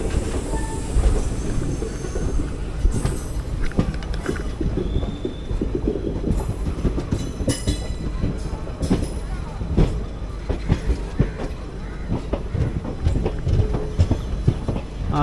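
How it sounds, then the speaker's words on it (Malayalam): Cholan Express coming in near Trichy, heard from aboard a passing train: rhythmic clickety-clack of wheels over rail joints with rumbling and rattling, close and continuous. "ആ കയറി വരുന്ന ചോളൻ എക്സ്പ്രസ് ആണ്"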